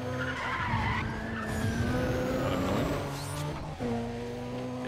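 An Audi TT races in Need for Speed Undercover, engine droning loud and close with long tire skids and a pitch change as it shifts.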